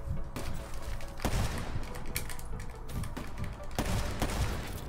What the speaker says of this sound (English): I'm going to wallbang him